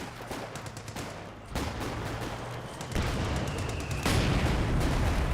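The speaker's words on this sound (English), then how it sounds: "Rifle grenade fire there." Rifle grenade fire and other battle noise in the real-time strategy game Company of Heroes 2, a dense, steady roar of shots and blasts that grows louder in stages with crackling bursts throughout.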